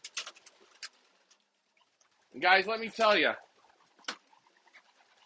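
Racing pigeons at a loft coo in one throaty, rolling burst at close range, with light scratching and fluttering around it; someone speaks briefly at the start.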